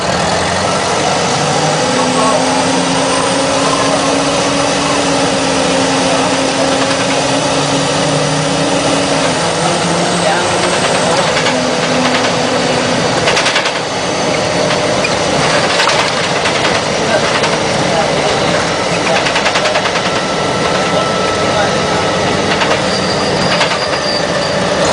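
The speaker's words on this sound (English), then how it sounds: "these RTSs signify the use of the Detroit Diesel Series 50 engine" A 1996 Novabus RTS transit bus with a Detroit Diesel Series 50 engine, run by the New York City Transit Authority, drones loudly and steadily for a long stretch, its diesel hum and whine continuous and close.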